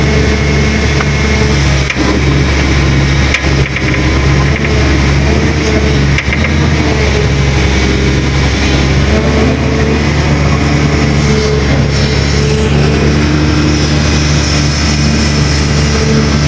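Heavy engines rumble steadily and loudly, with deep, continuous idling and revving from dump trucks queuing at a riverbank dredging site on the Pengkolan river in Lubang Buaya, Bekasi.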